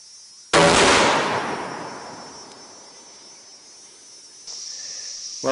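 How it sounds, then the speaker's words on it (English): A single loud rifle shot from a Browning X-Bolt at a range, a sharp crack followed by a long decaying echo, with insect chirping in the background. "Now for the third shot into this group."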